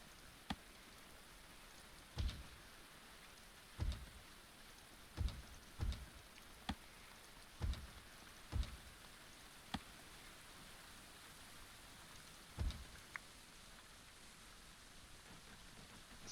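Steady rain falls in the medieval colony-building game Going Medieval, a soft continuous hiss broken by scattered sharp drop taps and occasional heavier thuds, with no voices.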